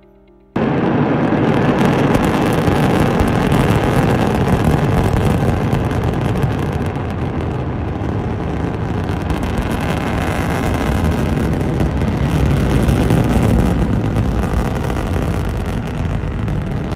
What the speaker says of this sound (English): This is liftoff.